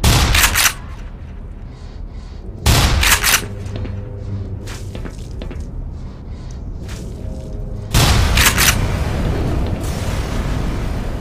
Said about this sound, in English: I think I shot an explosive barrel